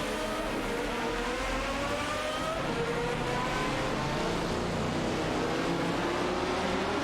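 Race cars in a video game, a Jaguar XKR GT2 and a Seat Toledo GT dueling on track, their engines droning loudly and steadily with gliding pitch as they rev through gears.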